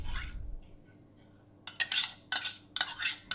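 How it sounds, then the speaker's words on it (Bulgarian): A spoon stirs a batter of eggs, oil, yogurt and baking soda in a bowl for spinach and green onion pastries, giving quiet, quick scraping clinks in short rhythmic strokes after a near-silent start. "И започвам да разбърквам"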